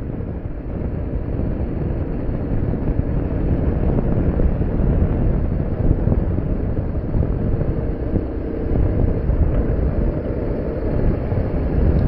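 A BMW R850R boxer-engine motorcycle is ridden along the road, its steady engine drone mixed with heavy wind rush across the microphone for the whole stretch, with no talking.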